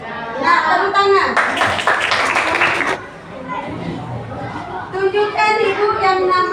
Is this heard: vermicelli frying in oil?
no